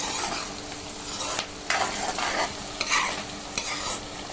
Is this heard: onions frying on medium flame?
yes